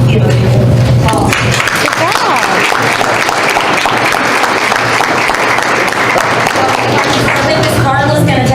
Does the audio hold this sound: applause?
yes